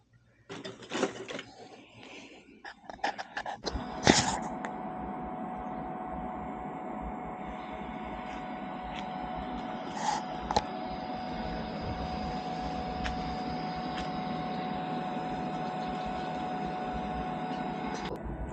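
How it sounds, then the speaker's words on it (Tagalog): A hand-cranked manual blower fanning a cooking fire whirs in a steady, fairly loud mechanical drone, preceded by a few clattering knocks and bumps at the start. "manual na blower."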